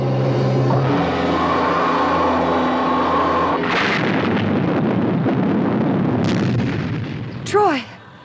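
A torpedo is fired from a craft and an explosion follows, with a steady mechanical drone cutting off into a heavy booming blast and rumbling debris, then a couple of sharp high squeals near the end.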